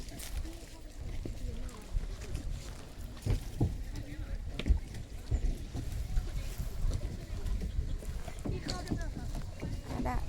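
A rowboat moves across the water on a ride to feed fish at Khao Ngu park, with steady splashing and wash under continuous outdoor rumble and voices talking.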